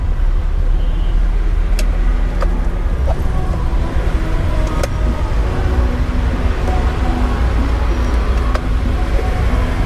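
A car drives along a road, heard from inside as a loud, steady engine and tire rumble with constant road noise and a few faint clicks throughout.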